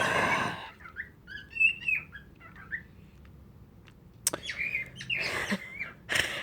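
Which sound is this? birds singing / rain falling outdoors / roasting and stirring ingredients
birds singing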